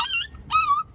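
Dogs whimpering and yipping, two short high-pitched whines in quick succession, fairly close and clear with no talk.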